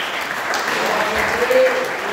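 A church congregation claps together during an evening service, a dense steady patter of many hands, with speech faintly mixed in.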